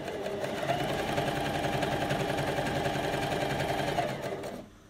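A coverstitch machine runs at a steady fast pace, giving a close, even mechanical whir with rapid needle chatter for about four seconds before it slows and stops.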